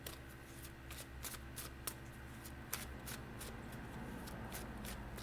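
Tarot cards are shuffled by hand in a quiet room, a soft run of riffling and snapping card sounds with a few sharper clicks, close and faint.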